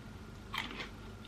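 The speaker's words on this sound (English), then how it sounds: "If a grape doesn't crunch, then I'm not interested." A single crisp bite into a cold, crunchy grape, close to the mic, with a short crunch and a softer follow-up crunch over a steady background hiss.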